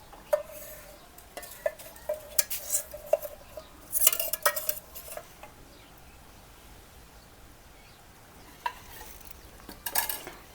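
Stuffed okra frying in oil in a pan, with faint sizzling and intermittent clinks and scrapes of a utensil stirring against the pan, close by and without talk.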